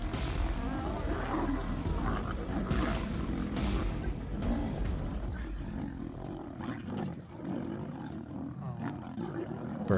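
Lions attacking a lioness, producing loud, rough roars and growls layered over chaotic scuffling, close and continuous before easing off toward the end.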